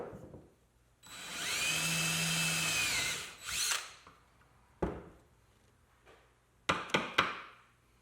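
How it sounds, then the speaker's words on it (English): A power drill whines steadily for about two seconds while boring through a metal backer plate for a kayak, followed by a few sharp clicks and clanks nearby. "drill 1 more hole dead center between the 2 holes I just made in this backer plate."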